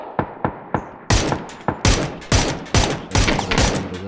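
Rapid gunfire from the PC battle-royale game PUBG: a few single shots open, then repeated loud, sharp bursts of automatic fire in quick succession, close and dominant throughout with no talking.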